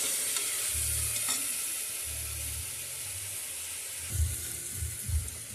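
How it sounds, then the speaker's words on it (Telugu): Ginger garlic paste and tomatoes stirred in a frying pan for tomato rice, a low scraping and bubbling sizzle that runs steadily, with a few louder stirring strokes near the end and no voices. "ఇందులో 1 స్పూన్ అల్లం వెల్లుల్లిపాయ పేస్ట్ వేసి మళ్ళీ ఒకసారి కలిపేసుకుందాం."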